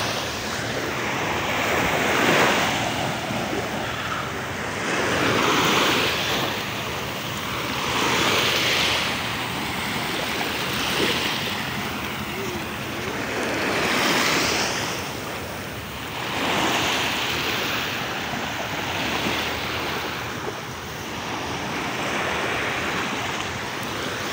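Ocean waves break steadily on the beach at Pantai Alam Indah, a loud continuous wash of surf swelling and receding in regular surges every few seconds, with wind buffeting the microphone.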